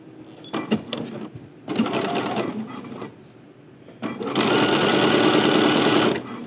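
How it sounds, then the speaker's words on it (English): Sewing machine topstitching the hem of a summery caftan, running in several short bursts and then one longer steady run, loud and close with brief pauses between. "I've got my facing or my hem behind there, and we're going to just stitch."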